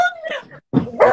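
A dog yelps and whimpers in short, sharp bursts after someone accidentally falls onto it, the cries loud and close with a brief silent gap between them.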